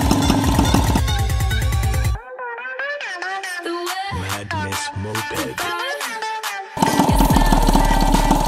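A small repaired HPL motorbike engine runs with a loud rapid rough chatter, dips to a lower uneven idle in the middle with a few putters, then picks back up to its steady running note, close by.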